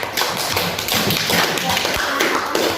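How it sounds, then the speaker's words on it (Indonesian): A school audience claps for students who presented, a dense continuous patter of many hands filling the room at close range, without distinct voices over it. "Kita beri aplaus untuk mereka semua yang berani maju ke depan."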